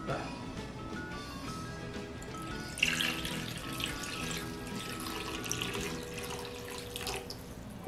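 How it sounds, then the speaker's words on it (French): Tap water runs steadily into a pot of beef short ribs for galbi, a continuous close splashing stream with a brief louder gush partway through, under quiet background murmur. "vous allez mettre de l'eau jusqu'à ras-bord de la viande"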